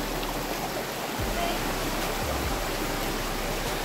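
Spring water at Mount Banahaw flows in a steady, broad rushing wash that stays even and continuous throughout, with a faint low rumble underneath and no voices.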